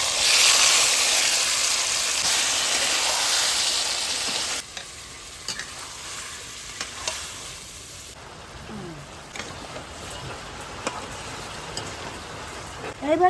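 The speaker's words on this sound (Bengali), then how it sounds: "এবার দুটো শুকনো লঙ্কা ফোড়ন দিয়ে দিচ্ছি এই সর্ষেটা ফোড়ন দিয়ে দিচ্ছি এই কারি পাতা ফোড়ন দিয়ে দিচ্ছি এবার আমি চাল কুমড়ো মাথাটা ঢেলে দিচ্ছি" Ash gourd is tipped into hot oil tempered with dried red chillies, mustard seeds and curry leaves, giving a loud, close hiss for about four seconds. It then drops to a soft sizzle with scattered pops and stirring clicks.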